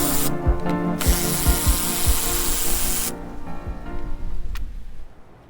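A hand ratchet fitted with a 7mm socket loosens bolts on a Jeep auxiliary battery and fuse box area, giving loud, close clicking bursts in quick runs, then pauses and a few scattered clicks as the bolts come free.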